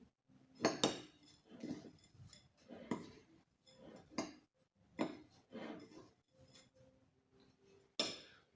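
A spoon scrapes and clinks against a bowl as a mix of bird seed and flour is stirred for a homemade bird feeder, in irregular bursts of gritty rattling that come close and fairly quiet, with no talking.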